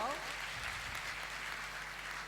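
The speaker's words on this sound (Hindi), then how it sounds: "एक बार जोर से तालियां बजा के बजाओ।" Steady applause from an audience fills the whole moment, a dense wash of clapping at even loudness.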